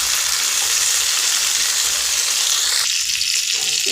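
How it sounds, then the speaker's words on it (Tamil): Two large chopped tomatoes with carrots sautéing in a pan make a loud, continuous sizzle close up, with a brief shift in texture near the end as they are stirred; no talk. "இப்போ நான் 2 ஒரு பெரிய சைஸ் தக்காளி கட் பண்ணி வச்சுருந்தேன். இப்போ இதில் போட்டு வதக்கிக்கிறேன்."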